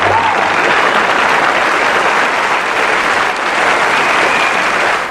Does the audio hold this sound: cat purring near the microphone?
no